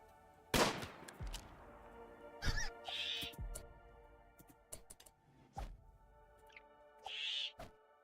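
Gunfire aimed at a rat in RimWorld sounds as several sharp, isolated shots spaced a second or two apart, fairly close, over quiet game ambience with faint clicks between them.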